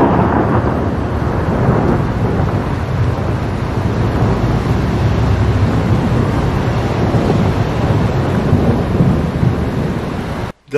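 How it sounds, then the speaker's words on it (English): Heavy rain pours steadily while deep thunder rolls underneath, a dense continuous wash of storm noise that cuts off abruptly at the end. "Rain and thunderstorms."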